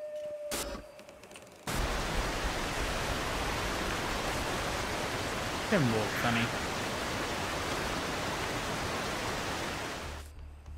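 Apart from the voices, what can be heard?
waterfall in the video game Bigfoot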